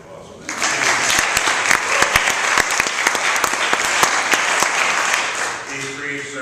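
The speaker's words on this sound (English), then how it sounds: "Another big round of applause for that." Sustained audience applause at a city kickoff event for free tax preparation services and Earned Income Tax Credit filing, a dense steady clapping that starts abruptly, holds for several seconds, then fades out.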